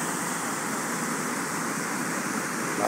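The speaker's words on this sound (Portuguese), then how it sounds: "Água do Rio Salgado." The Salgado river rushes over a dam at Lavras da Mangabeira, Ceará, a steady broadband roar of flowing water, close and continuous, with no talk.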